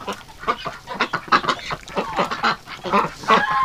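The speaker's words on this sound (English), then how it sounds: "Ducks in water." Ducks quack busily in water, a rapid overlapping chorus of nasal calls close by, continuous and fairly loud with no talk over them.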